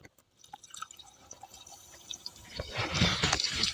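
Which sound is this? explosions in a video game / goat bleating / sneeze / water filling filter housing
water filling filter housing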